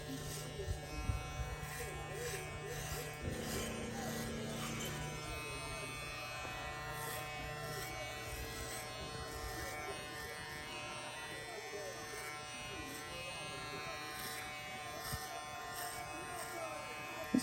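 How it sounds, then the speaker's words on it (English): Golden Gun hair clipper running through hair, a steady close electric buzz that continues throughout while someone talks over it. "It's actually a smooth clipper."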